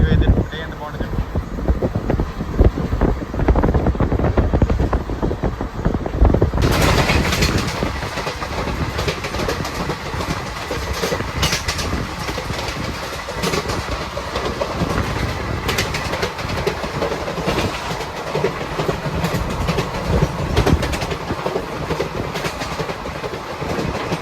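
The Kacheguda-Mysuru Superfast Express runs at speed, heard from on board as a loud, continuous rumble with rhythmic clickety-clack of the wheels and heavy wind noise buffeting the microphone.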